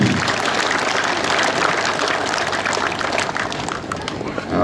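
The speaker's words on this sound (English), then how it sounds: "Let's give them all a great big round of applause right there." A crowd at a tractor pull benefit claps steadily and densely, with scattered voices mixed in and the applause holding at an even level throughout.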